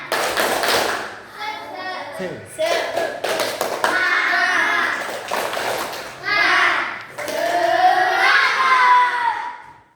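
A group of children claps in unison with rhythmic taps and shouted Indonesian chanting of "Tepuk semangat," several bursts of loud clapping and voices over about ten seconds.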